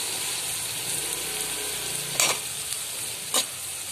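Steady sizzling and frying of sprouted green gram in a pan, with a couple of sharp scraping stirs of a spoon against the metal.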